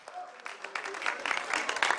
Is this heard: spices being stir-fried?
no